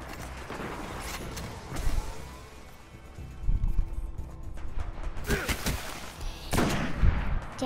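Sniper rifle shots in the video game Destiny crack out as several loud, sharp bursts spaced a few seconds apart over a steady background of game ambience.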